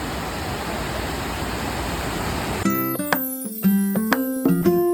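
Water overflowing at Ramdhari lake gives a steady, full rushing roar for about two and a half seconds, then the roar gives way to music with notes and beats.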